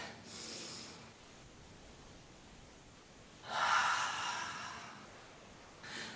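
Slow, audible breaths during a grounding yoga flow: a soft exhale, a quiet pause, then a fuller, louder breath with a second, fainter one following, close to the microphone.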